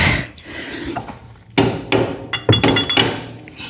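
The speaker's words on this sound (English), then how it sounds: "where's my hammer?" Sharp hammer blows strike metal while a deck height cam is replaced on a Z920M mower, landing in an irregular series of loud, close knocks with brief pauses between them.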